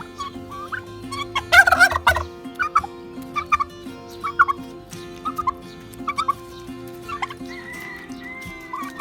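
Turkeys gobbling repeatedly close by while being fed watermelon, bursts of rattling gobbles every second or so over a low steady background hum.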